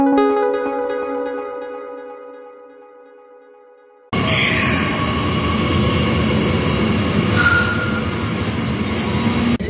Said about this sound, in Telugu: ఇప్పుడు ఎయిర్పోర్ట్కి వెళ్ళే ట్రైన్లో ఉన్నాము.